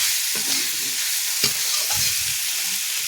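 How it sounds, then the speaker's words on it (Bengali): Snail curry with spices is stirred in a pan, a steady frying sizzle overlaid by a few scraping strokes of a spoon against the pan, close and without talk. "মশলাটার সাথে এটাকে ভালো করে নাড়াচাড়া করে নেব"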